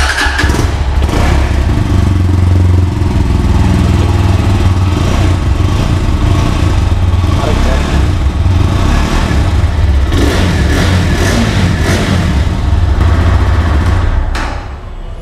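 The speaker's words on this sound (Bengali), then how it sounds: "এই বাইকটির এক্সজস্ট সাউন্ডটা আপনাদের কাছে কেমন লেগেছে" A GPX Demon 165RR motorcycle exhaust running close by, a loud steady burbling idle with blips of revving throughout, fading slightly at the end.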